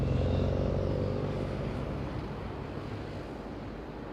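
A jet aircraft takes off from runway 23 at Madeira Island Airport, its loud roaring engine noise slowly fading as it moves away.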